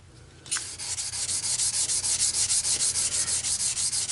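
Aluminum being hand-sanded with wet sandpaper in a crisscross X pattern, a steady rhythmic back-and-forth scratching of about two strokes per second that starts suddenly and continues, close and fairly loud with no talking.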